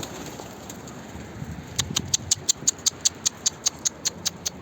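A young fledgling bird just out of the nest on a rooftop, giving a run of sharp, high repeated calls in a steady rhythm, close and clear over faint background noise.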